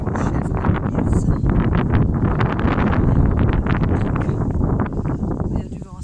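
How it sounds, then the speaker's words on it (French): Heavy wind blasts across the microphone in a steady, rough roar with gusty surges, fading slightly at the very end. "Il y a du vent, ça bouge."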